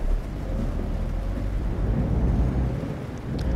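Steady rain pours in the Euro Truck Simulator 2 driving game, a dense broadband hiss with low rumble running continuously throughout, fairly loud and without speech.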